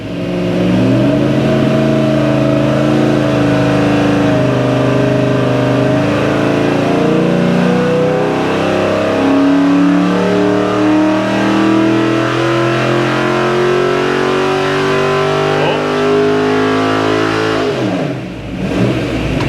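A small block Chevy V8 from a 1967 Camaro roars on a dyno, climbing in one long loud sustained rev for most of the run before abruptly dropping off near the end, with no talk.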